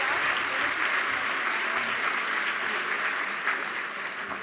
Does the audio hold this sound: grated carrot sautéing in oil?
no